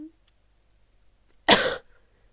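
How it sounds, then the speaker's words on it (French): A single sharp cough from someone who is a little ill, loud and close, comes after near silence with only a faint short voice sound at the start. "très souvent je vais tousser dans la vidéo"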